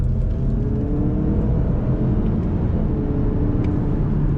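Mazda CX-30 Turbo engine pulling steadily under throttle from inside the cabin, a continuous low rumble with faint rising harmonics, no voices.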